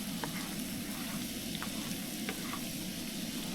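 Butter sizzles with garlic in a frying pan, a soft and even crackle that runs the whole time, with a few light pops rising over the steady hiss.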